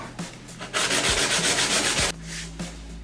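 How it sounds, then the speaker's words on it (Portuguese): Wooden laptop table edge being sanded by hand, with a steady abrasive rubbing burst of about a second and a half, set between softer scraping strokes, close up with no talk. "Eu lixei toda a peça, refilei todos os cantos, trabalhei em cima das emendas."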